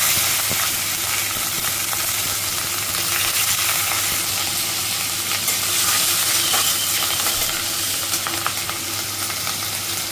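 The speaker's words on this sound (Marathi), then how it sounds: "कापलेल्या मिरच्या चांगल्या छान फोडणी झाली" Cut green chillies, added after cumin and garlic, sizzle and crackle in hot tempering oil in a home kitchen with the chimney fan off, a loud, steady frying hiss with occasional spoon scrapes and pops, no talking.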